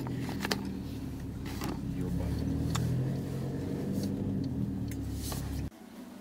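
Steady low engine and road rumble from inside a car driving through Murmansk in November, with muffled voices throughout, before the noise drops away abruptly near the end.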